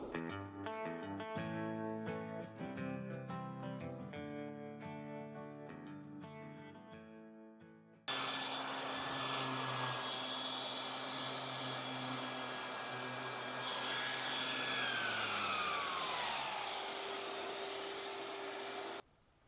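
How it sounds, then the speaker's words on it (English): A power sander works over a boat hull during outer keel repair, coming in loud and steady after a stretch of music and holding a continuous droning whine with a pitch shift near the end. "So I'm going to get back to sanding"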